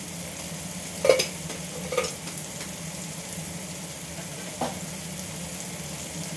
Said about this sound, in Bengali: এটাকে ভালো করে চিনির সাথে কষিয়ে নিই।